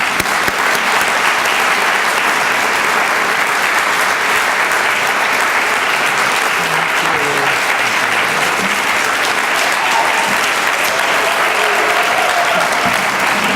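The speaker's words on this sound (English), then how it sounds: "Please give him a warm round of applause." An audience at a human rights awards breakfast applauds warmly for a police officer, a sustained, even wash of loud clapping that carries on steadily for over ten seconds.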